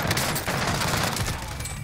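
Rapid automatic gunfire in Warzone on Rebirth Island, a dense close burst of overlapping shots that runs almost the whole moment before tapering slightly.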